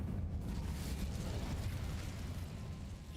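A fire spell is cast in Hogwarts Legacy: a dense, rumbling whoosh of flame with a low boom. The burst is steady and loud for about three seconds, then tails off slightly.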